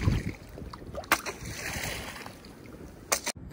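A small fishing boat moves along a river, with water sloshing and lapping against the hull and a few sharper splashes, close and moderately loud, plus faint background murmurs.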